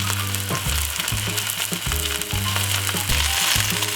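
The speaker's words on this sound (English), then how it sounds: "So once you put the beef in the fried pan like this, you take a little time and turn it over to the other side." Beef sizzles and spits steadily in a hot frying pan, a loud, dense crackle running throughout with no voices.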